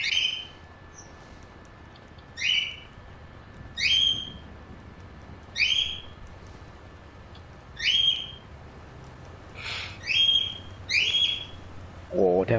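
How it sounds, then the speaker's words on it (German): In GTA V Online, a bird repeats short, bright chirping calls about every one to two seconds. The calls come through clearly over a quiet low background, with a brief low thump at the very end. "Der Vogel."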